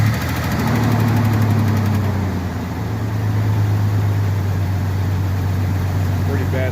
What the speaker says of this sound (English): Pretty bad lifter tick until the oil got pumped up in there, but there we go. Running nice and smooth.